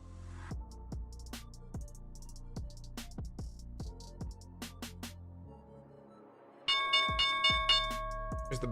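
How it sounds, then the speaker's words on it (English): A stock market opening bell rings in a series of sharp, evenly repeated strikes, with louder, brighter clanging bursts coming in toward the end. "All right, here's the opening bell."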